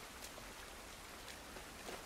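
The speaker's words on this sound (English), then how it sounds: "This rain ain't gonna do us any good." Gentle rain falling outdoors in The Last of Us Part I, a faint, steady patter of raindrops on surfaces with no voices over it.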